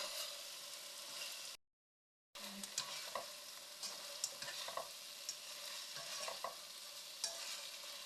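Already-fried eggplant being sautéed in oil in a pan gives a steady close sizzle with scattered stirring clicks and scrapes, briefly cutting to silence before the frying resumes.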